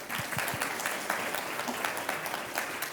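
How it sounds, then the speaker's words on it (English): Audience applause at a food-policy summit session as a guest joins the stage, steady dense clapping from a large room filling the whole moment, with no voices on top. "Another round of applause,"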